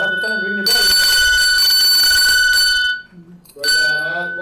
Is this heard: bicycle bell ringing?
yes